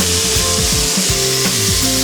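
Smash burger patties sizzle and crackle on a hot griddle as they are flipped, with steady broadband frying hiss and scraping strokes of a spatula against the metal surface, close and loud.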